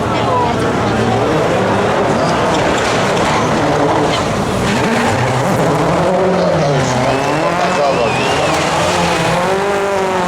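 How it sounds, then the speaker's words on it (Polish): A Ford Focus prepared to WRC specification roars through the Barbórka Warszawska 2012 rally with a loud, shifting engine note and tire noise, heard under continuous commentary. "Ford Focus przygotowany w specyfikacji WRC."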